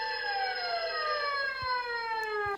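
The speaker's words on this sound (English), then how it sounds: "Then the police siren and phone ring at the same time." A police siren wails steadily with strong harmonic tones that slowly glide downward, continuous and fairly close, with no talking.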